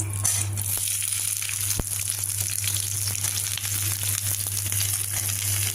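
Chopped onions dropped into a hot mustard seed and cumin tempering for a home-style curry, giving a steady, close, even sizzle of frying with no voices over it.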